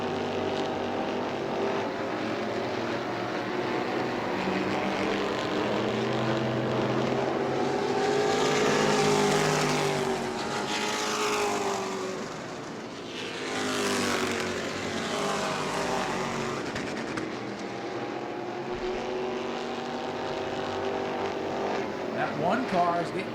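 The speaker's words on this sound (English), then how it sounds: "One car is getting quicker and quicker here to catch the track regular here all the time." Race cars at New Smyrna speedway roar past one after another, engines swelling and fading with clear Doppler sweeps, loud and continuous throughout, with a commentator talking over them.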